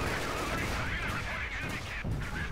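Dense, continuous battlefield din of British sniper fire in the video game Company of Heroes 2 against a King Tiger tank, with overlapping shots and rumble merged into a loud, unbroken wash of noise.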